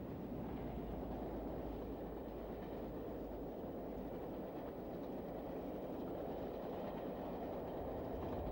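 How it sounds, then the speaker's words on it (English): A Class 47 diesel locomotive pulls out of the northern portal of Bleemore Tunnel on a high-speed run, a steady loud rumbling roar of engine and wheels that holds constant throughout, with no voices. "High-speed running was undertaken by Class 47s, this one leaving the northern portal of Bleemore Tunnel."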